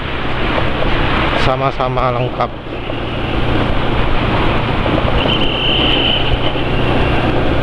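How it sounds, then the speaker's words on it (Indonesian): Motor scooter engine running on GGI Maxoil 20W50 oil, a smooth, steady drone held loud and close throughout, with a person speaking briefly over it early on. "suara mesinnya juga halus seperti ini."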